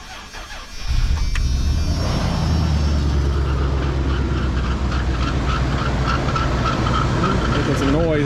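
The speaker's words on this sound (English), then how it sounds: "let's try and fire this thing up" A 1994 Dodge Dakota pickup's 5.2L V8 cranks and catches after a second, then settles into a loud, steady, deep rumbling idle that continues throughout.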